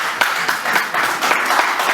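Audience clapping for a comedian on stage at a Nollywood film launch event, a steady dense patter of many hands throughout, fairly close and loud with no voices over it.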